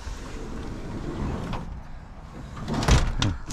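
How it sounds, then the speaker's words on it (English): A mobile home door is swung shut, giving a couple of quick knocking clunks near the end over a low, steady outdoor background. "You're going to close the door."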